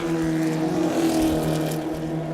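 Formula First single-seat race cars roar along the front straight of a New Zealand championship circuit, a steady sustained engine drone with a slight rise and fall as the cars pass.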